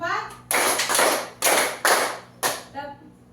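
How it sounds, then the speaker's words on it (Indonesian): A school class claps hands together in a counted rhythm, delivering four loud, sharp bursts of clapping spaced about half a second apart, with a teacher's voice counting between the claps. "Tepuk 1, tepuk 2, tepuk 3, tepuk 4"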